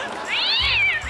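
A single cat meow, loud and close, rising and falling over about a second on a comedy stage show, with no talk over it.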